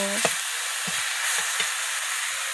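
Salted tomatoes sizzle in a kadai while being stirred, a soft steady frying hiss with a few scraping stir strokes, no one talking.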